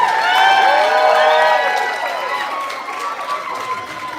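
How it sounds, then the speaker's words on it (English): A crowd at an outdoor fudge eating contest clapping and cheering for the contestants, a loud mix of applause, whoops and scattered voices that slowly thins out. "How about a round of applause for all of our contestants?"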